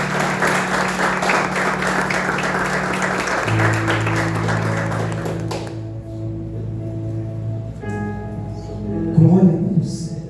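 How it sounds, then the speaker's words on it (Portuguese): A church congregation claps and cheers in sustained applause during a worship service, then it fades while music and a voice continue over a sustained organ-like tone. "Dá uma salva de palmas aí"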